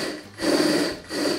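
A Bosch GSA 10.8 Li cordless reciprocating saw cuts through material in two rasping bursts separated by a short pause, close and fairly loud.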